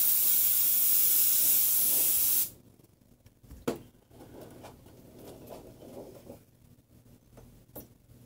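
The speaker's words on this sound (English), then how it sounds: "I'm still going to give it a spray." Insect spray hisses loudly and steadily from a can around a window for a couple of seconds while hunting a spider, then stops, followed by quiet handling knocks and rustles.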